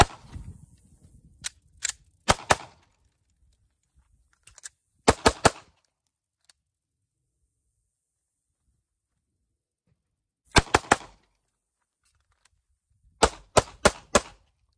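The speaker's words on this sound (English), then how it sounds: "So we had about 3 to 4 major malfunctions with the SIG P320 with steel-cased ammo" A SIG P320 pistol fires Winchester steel-cased ammunition outdoors on a range: sharp, close shots come singly and in quick strings of two to four, with long silent gaps where the gun malfunctions.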